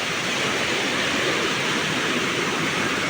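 The Kaunajan River rushes in a steady, dense broadband wash, loud and close, with no voices over it.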